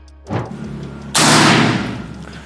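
PCP air rifle fired with an OD38 air tube, a soft thump followed by a single loud, sharp report that decays over about a second.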